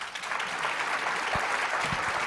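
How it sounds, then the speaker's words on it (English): At a food regulators' summit, the audience applauds the panelists, a full wash of clapping that holds steady throughout, with a couple of low thumps near the end. "huge round of applause for everyone"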